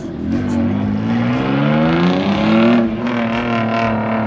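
A turbocharged Subaru XT6 engine revs hard and steadily close by, its rising, wavering drone holding loud throughout with a brief dip near the end.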